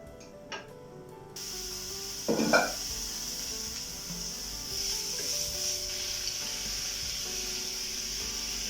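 Onions frying in coconut oil give a steady, moderately quiet sizzle that starts after a second or so and holds, with a few stirring scrapes and clatters near the pan.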